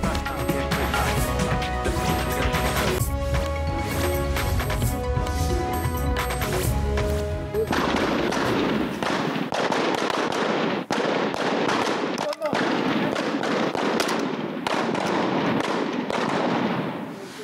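Police firing practice at a shooting range in Pakistan: a loud, dense run of gunshots, first over a tonal, music-like bed, then a rapid crackling barrage of sharp cracks and thuds that continues throughout.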